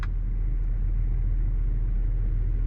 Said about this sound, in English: Cooled seats, even though a little noisy at full blast,